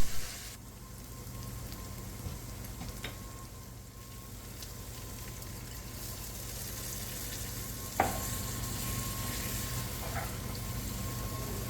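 Meat and a cup of beef broth simmer into gravy in a skillet for shepherd's pie, a continuous soft bubbling sizzle with occasional stirring knocks over a faint steady hum.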